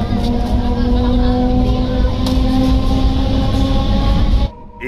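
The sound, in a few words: galloping local train running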